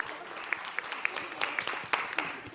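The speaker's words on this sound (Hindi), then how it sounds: "एक बार जोरदार तालियां हो जाए अय्यर जी के लिए यार" Studio audience applause for a guest during an interview event with Taarak Mehta Ka Ooltah Chashma cast members in Mumbai; scattered, uneven clapping with a few sharp individual claps standing out, moderately loud.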